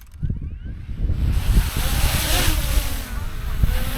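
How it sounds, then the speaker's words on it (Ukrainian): Strong wind on the Watzmann mountain in Germany buffets the microphone in loud, continuous gusts, a rushing roar that swells and dips throughout. "Тут, до речі, такий сильний вітер дує."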